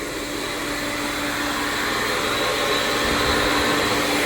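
Vacuum pump for a CNC vacuum table on a Onefinity machine runs steadily with a loud, continuous broadband whoosh and hum, holding even throughout with no pauses.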